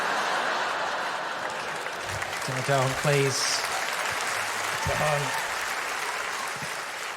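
A stand-up comedy audience claps in a continuous wash of applause, with a voice protesting briefly over it twice.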